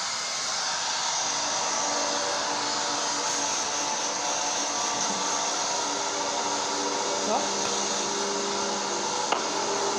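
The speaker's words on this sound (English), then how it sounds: "Now, as she's blow drying it, she's drying it" A hair dryer roars steadily and loudly at close range while hair is being blow-dried, a continuous whooshing drone that lasts the whole clip with no pauses.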